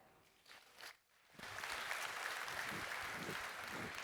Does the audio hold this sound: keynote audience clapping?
yes